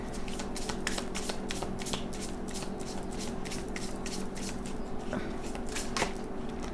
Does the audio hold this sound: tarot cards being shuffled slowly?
yes